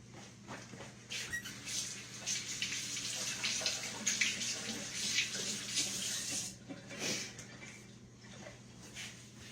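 Tap water runs steadily into a kitchen sink as sticky hands are washed after eating bacon cheese biscuits, a continuous splashing stream with small squeaks and shifts in flow, fairly close.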